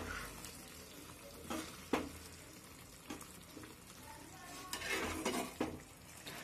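Aloo dum potato curry with chopped coriander is stirred in a pan, giving intermittent scraping and clinking strokes over a soft sizzle, close and moderately quiet, with no talking.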